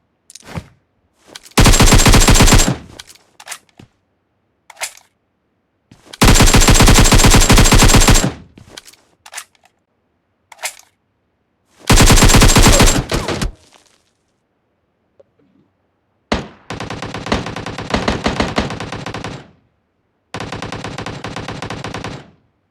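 Gunfire in PUBG Mobile rattles out in loud, rapid bursts of a second or so, separated by short pauses and a few isolated shots, with several more bursts toward the end.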